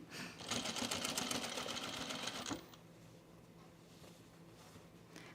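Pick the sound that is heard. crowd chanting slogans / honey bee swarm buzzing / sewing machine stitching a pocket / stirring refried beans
sewing machine stitching a pocket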